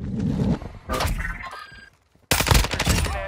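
Gunfire in a shooter video game, loud bursts of close shots in separate volleys broken by a brief silent gap before a final heavy burst.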